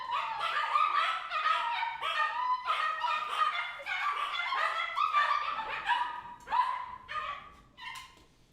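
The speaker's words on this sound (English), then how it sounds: "Our puppies are talking to yours, Lola." Puppies yip, bark and whimper in a steady stream of high, overlapping calls, close by and fairly loud, tapering off near the end.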